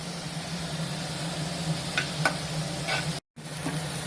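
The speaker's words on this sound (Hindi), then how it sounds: "जब प्याज अच्छे से सॉटे हो जाएगा तब हम डालेंगे इसमें ये जैसे टमाटर विच इज ग्रेटेड।" Onions sauté in a pan with a steady soft sizzle and a few clinks of a stirring utensil, briefly cutting out near the end.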